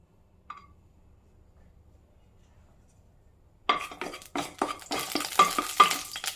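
Whole cloves and a small piece of cinnamon drop into hot oil for an aloo gobi, starting a close, crackling sizzle after a quiet start, with a brief clink early on and scraping stir strokes.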